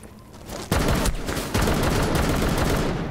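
Rapid automatic gunfire in Rainbow Six Siege rattles loud and close in sustained bursts, with one sharp shot kicking in the fire.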